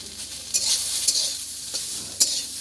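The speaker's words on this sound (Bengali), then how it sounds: "বন্ধুরা আমি সোয়াবিনগুলো ভেজে নিচ্ছি একদম মানে বেশি কড়া করে ভাজবো না হালকা করে ভেজে নেব" Soybeans fry lightly in a pan, giving a steady hissing sizzle broken by a few sharp stirring scrapes, close up with no talking.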